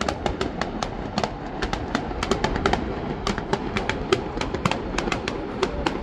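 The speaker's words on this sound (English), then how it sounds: "we're here in Hervey Bay fireworks with Sumij in the water" Fireworks burst over Hervey Bay, heard from a sailboat on the water: a fast, irregular string of sharp crackling pops and bangs over a steady rumbling background, fairly distant.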